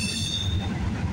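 A freight train rolls past at night with a KCS locomotive working as rear distributed power. A short, moderate rumble of wheels sits under a high, thin squeal.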